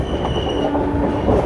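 The Bokaro Express, a locomotive-hauled train running from Tatanagar via Dhanbad to Alleppey, roars past up close, with loud continuous wheel rumble and a thin high squeal.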